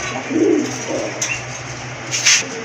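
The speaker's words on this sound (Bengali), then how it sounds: "খুবই সুন্দর ভালো মানের এক জোড়া কবুতর" A pair of desi or fancy pigeons offered for sale gives a few soft, low coos close by, with a brief higher call near the end over a steady background hum.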